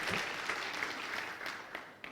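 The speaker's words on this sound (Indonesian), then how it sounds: "Haleluya, boleh beri tepuk tangan." A church congregation claps and applauds together during a sermon, a steady wash of clapping heard from a moderate distance without talk.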